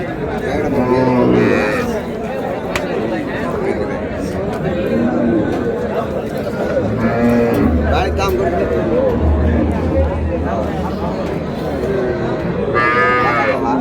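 At the Raniganj haat cattle market in Dinajpur, a cow with her calf moos several times close by, amid a steady hubbub of crowd chatter as people talk nearby.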